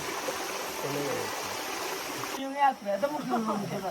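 Water runs steadily from a turned-on pipe, a continuous close trickling flow that carries on under voices talking.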